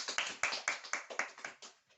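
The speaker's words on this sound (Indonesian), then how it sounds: "Berikan tepuk tangannya dulu." Students in a secondary-school Islamic studies class clap together in a quick run of about nine close, crisp claps that fade out toward the end.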